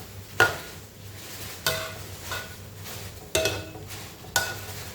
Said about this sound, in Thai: ตอนนี้กำลัง เคี่ยว น้ำกำลังแห้งแล้ว